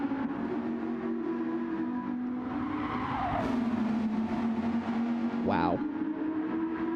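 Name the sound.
race cars echoing off environment in Gran Turismo video game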